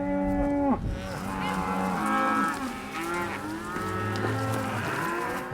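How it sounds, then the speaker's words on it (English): Cattle moo repeatedly, long low calls from several animals overlapping near and far during a cattle drive on a Montana ranch, with no talk. "There's a lot of cows out there."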